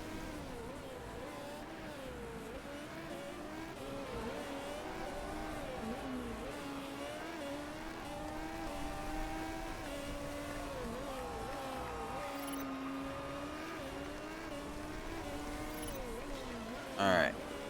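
A race car laps in the Motorsport Manager video game, its engine revving up and down in a steady wavering whine at moderate level, with faint talk underneath.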